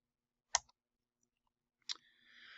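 A computer mouse clicks once on a blue link in a school family-access web portal, a short sharp click near the start, followed later by another click and a faint rising hiss.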